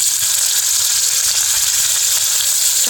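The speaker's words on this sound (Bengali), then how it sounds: "প্রথমে তেল দিয়ে দিলাম, একটু পেঁয়াজ বাটা, আদা বাটা" Onion paste and ginger paste frying in oil gives a loud, dense, even hiss that holds steady for a few seconds, close to the pan, with no voices.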